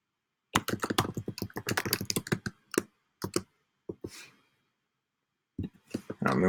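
Computer keyboard typing while entering text into a tour creator tool, with rapid bursts of close key clicks followed by a few sparse isolated taps and pauses.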